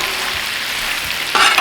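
Bacon strips sizzle steadily on a Cuisinart 360 griddle, a close, even crackle of fat that briefly grows louder near the end, with no talking.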